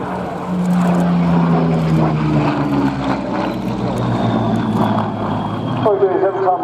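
Piston aero engine drone from an RAF Battle of Britain Memorial Flight Spitfire or Hurricane on a flying display at RIAT 2016, a steady distant throb with a slowly shifting pitch as the aircraft passes, while someone talks over it.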